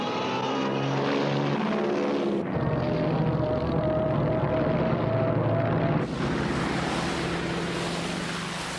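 World War II warplanes over Midway island, heard as a loud, continuous propeller-engine drone with a rough, wide rumble, shifting abruptly in tone as the aircraft pass, with no voices.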